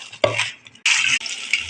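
Batter for curd vada being stirred and mixed in a bowl, thick wet scraping strokes in several close, loud bursts with brief pauses between them.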